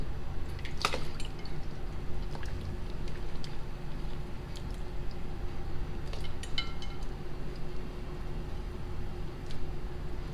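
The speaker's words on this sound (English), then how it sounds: "get a spoon that has holes in it and dunk them right in the ice water, just like this" Peeled-to-be tomatoes dunked with a slotted spoon into a bowl of ice water while making homemade marinara: close soft watery drips and splashes with occasional light clinks of the spoon on the bowl, over a steady low background hum, no talk.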